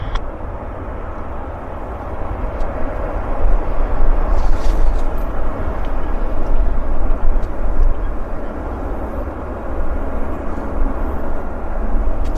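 Airliner taking off at Vancouver airport, a loud continuous broadband jet roar rising slightly and holding steady, heard from a distance on the ground with no talk.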